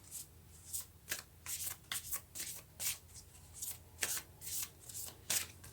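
Tarot cards shuffled by hand in a steady run of crisp riffling bursts, each about half a second, close and alone with no talk over them.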